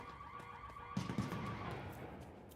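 A car alarm in a video game sounds faintly with a steady pulsing tone, then a louder thud and crash of the car being hit cuts in and rumbles on.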